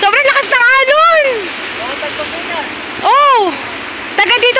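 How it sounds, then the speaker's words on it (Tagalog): Strong ocean waves at a fishing spot make a steady, loud broadband wash throughout, with several people talking over it. "Sobrang lakas ng alon."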